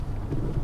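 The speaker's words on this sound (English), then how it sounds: "Wow, it is quite windy today. Like, very windy." Steady low rumbling wind buffets the microphone throughout, a constant dull roar with no voices.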